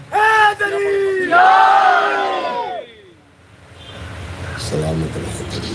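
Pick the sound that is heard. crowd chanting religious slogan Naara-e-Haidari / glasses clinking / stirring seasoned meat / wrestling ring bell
crowd chanting religious slogan Naara-e-Haidari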